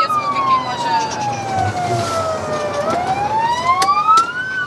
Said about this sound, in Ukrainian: На вулиці полковника Морозенка водій таксі не надав перевагу в русі пожежній.